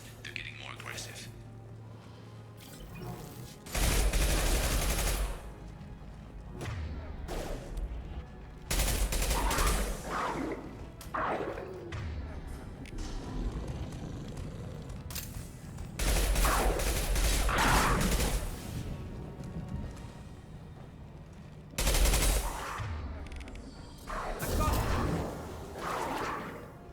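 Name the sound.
gunfire in the video game Mass Effect 2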